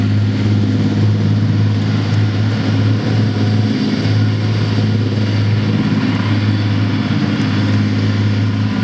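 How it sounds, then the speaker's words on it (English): An armoured personnel carrier drives past at a tank display, its heavy engine droning steadily and loud with a constant low rumble throughout, no voices over it. "This vehicle coming on now, this is what the military would call an APC, or Armoured Personnel Carrier."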